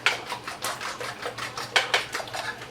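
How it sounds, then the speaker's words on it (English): Eggs are whisked briskly in a bowl, a rapid series of close clicking taps as the whisk strikes the sides. No voices are heard. "And we're just whisking away our eggs."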